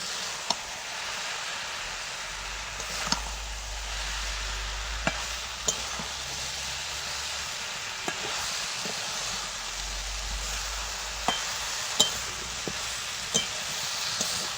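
Fried shol fish goes into a hot pan with a steady sizzle and hiss, broken by sharp clicks and scrapes of stirring, with low rumbling underneath.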